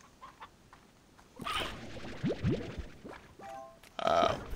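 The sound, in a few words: rooster clucking in the video game Slime Rancher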